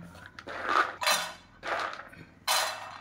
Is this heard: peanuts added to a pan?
yes